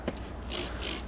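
Aerosol tire shine hisses onto motorcycle tires in two bursts of spray, close and fairly steady, with a faint click at the start.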